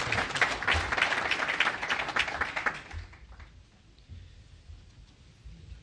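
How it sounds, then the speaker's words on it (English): Applause from an audience at a community awards program honoring youth and volunteers, a dense burst of clapping that fades after about three seconds into quiet room noise. "A round of applause all day."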